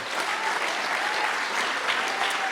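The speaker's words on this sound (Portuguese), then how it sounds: "As palmas louvam o Senhor." A church congregation applauds during a service: a dense, continuous wash of many hands clapping at once, fairly loud and steady, with no speech over it.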